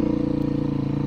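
Off-road motorcycle engine droning steadily and close by, with a low, even rumble as the bike rides along a trail.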